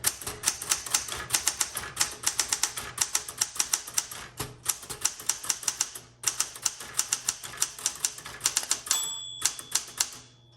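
A 1967 Smith Corona Classic 12 typewriter clacks in brisk, sharp keystrokes with short pauses, then a bell dings and the carriage ratchets near the end, loud and close.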